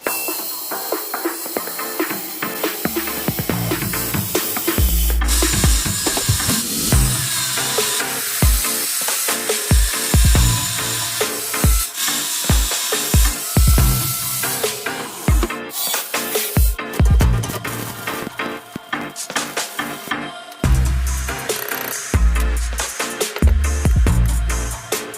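A metal dressing table frame is cut in half with a power tool, giving loud, continuous grinding and hissing with repeated harsh bursts and short pauses throughout, no talking.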